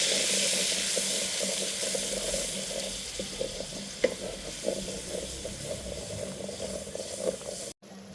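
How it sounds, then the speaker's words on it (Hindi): Tomato paste is stirred into onion masala frying in a pan for arvi salan, a steady close sizzle with occasional spoon scrapes and bubbling that stops abruptly near the end. "3-4 टमाटरों का पेस्ट बनाया है। अब वो शामिल करेंगे। इनको थोड़ा मिक्स करेंगे।"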